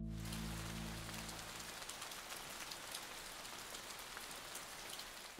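Steady rain falls outdoors in New York City as a dense, even hiss of drops on surfaces, with a low hum fading out in the first two seconds and no talking.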